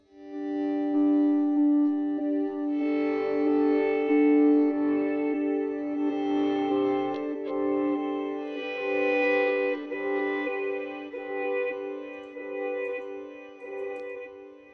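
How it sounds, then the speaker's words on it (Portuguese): An electric guitar played through a pedalboard reverse delay swells in softly, its notes rising and blooming into a long, washy sustained tail that fills the whole stretch without any talking. "Aí eu tenho outro delay que é um delay para swell, que é o reverse"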